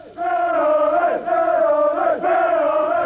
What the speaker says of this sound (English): That's the biggest crowd of the week we've had. the noisy crowd.